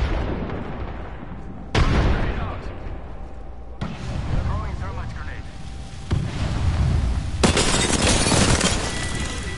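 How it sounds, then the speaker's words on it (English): Grenade blasts in a video game shooter, including a thermite grenade: several loud booming explosions with rumbling tails at spaced intervals amid battle noise, with a player talking over the action. "Grenade out. Throwing grenade."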